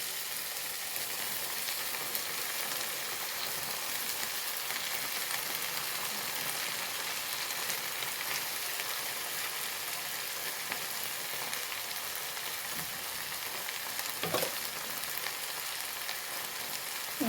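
Drumstick leaves fry with cooked dal in a pan for a thoran, giving a soft, continuous sizzle at a steady, moderate level with no talking.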